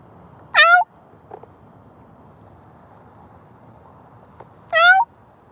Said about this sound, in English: Gray cat.